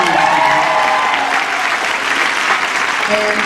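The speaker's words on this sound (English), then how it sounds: "give them a round of applause" A concert audience at the Billingham Forum claps loudly during a 2015 show, a full, close wash of applause with faint tonal music lingering underneath.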